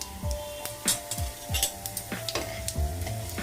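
Whole spices tempering in hot oil for a Bengali borboti (long bean) and masoor dal curry: a steady, close sizzle broken by repeated scraping stirs and light clinks of a spoon against the pan.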